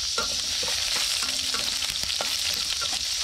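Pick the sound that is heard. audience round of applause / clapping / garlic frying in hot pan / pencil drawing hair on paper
garlic frying in hot pan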